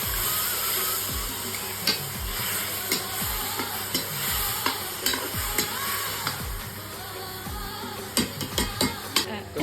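Tomatoes stirred in a frying pan over a steady sizzle, with regular scraping and knocking strokes of a spoon against the pan that grow quicker near the end, close and fairly loud, no voices.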